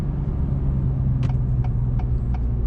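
An Acura TLX Type S engine under way, a loud low rumble holding steady from inside the car, with a few brief clicks or shifts over the drone and no speech.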